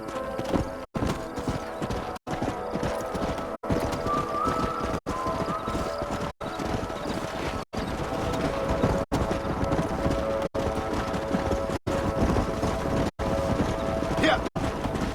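Horse hooves gallop in a steady, continuous clatter in the video game Red Dead Redemption, with voices and a windy rush in the background.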